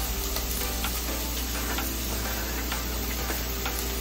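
Egg fried rice vegetables fry in a pan with a steady, dense sizzle and scattered ticking stirs, close and continuous with no talking.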